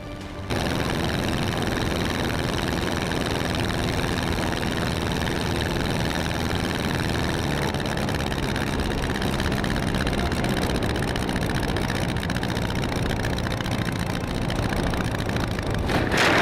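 A small plane's engine drones steadily and loudly throughout, captured from a camera mounted on the aircraft in flight, with constant wind and propeller noise and no talking.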